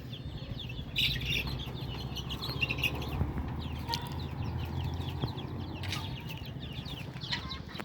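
Farm chickens on a rooftop cluck and chirp softly against a steady low background hum, with occasional sharper bird calls rising above it.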